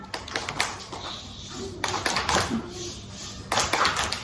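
Schoolchildren in an elementary school classroom clapping in a rhythmic 'tepuk diam' chant pattern, sharp hand claps in bursts with pauses between, mixed with faint voices and room noise.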